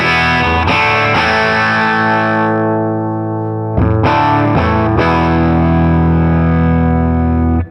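Distorted electric guitar chords through an HOD Orange Two pedal, held and restruck while the high EQ knob sweeps and the brightness shifts, loud and close with no talking.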